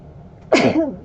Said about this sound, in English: Oh gosh, I'm gonna sneeze.